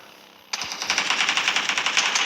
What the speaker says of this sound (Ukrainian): Там стріляють.